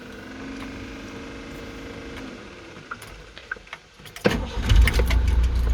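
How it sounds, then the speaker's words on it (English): A warm 1984 Ford Transit light truck's diesel engine cranks with a few soft ticks, then catches and roars up loudly to a rough, close idle, with no talk. "And here we go, it starts up nicely."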